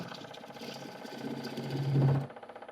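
A shear scraper cuts a box elder bowl spinning on a wood lathe, a steady close-up buzzing hum with a rising scraping rasp that swells near the end, then drops off.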